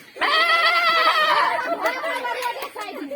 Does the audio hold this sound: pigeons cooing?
no